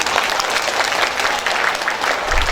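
An audience at a gathering of madrasah teachers in Riau claps in a sustained, fairly loud round of applause, with a faint voice underneath.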